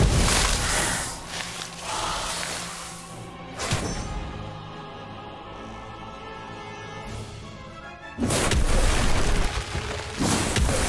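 An Incendio fire spell in the Harry Potter Magic Awakened game bursts out as loud whooshing booms, a strong one near the start and a big blast later, between quieter stretches with musical tones.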